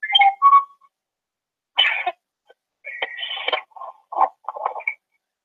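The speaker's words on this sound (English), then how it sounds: "a screaming goat inside the phone" Short, tinny bursts of shrill, goat-like screaming from a small phone speaker, several in quick succession separated by brief pauses.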